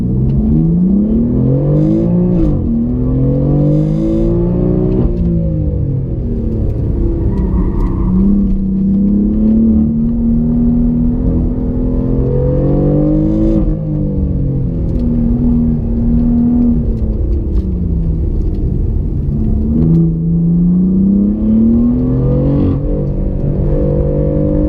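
A 2015 BMW M3 drives an autocross run, its engine loud and close throughout, revving up and down through repeated accelerations and shifts with a steady rumble.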